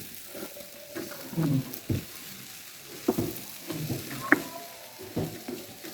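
Chana dal panjiri being stirred in a pan, giving soft, close scraping and shuffling strokes in uneven bursts over a quiet background, with no talking.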